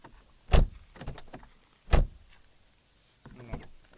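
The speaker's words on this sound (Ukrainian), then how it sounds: "Ну, Відкриття, закриття дверей. Ну, послухайте." An Audi A4's heavy door is opened and shut twice, each with a solid low thud, followed by a quieter latch click and rustle near the end.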